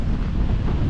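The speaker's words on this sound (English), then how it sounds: "it was just too windy to be out on the water" Strong wind blowing across the microphone outdoors on open water during a kayak fishing trip, a loud continuous roar and buffeting rumble with surf-like wash and no pauses.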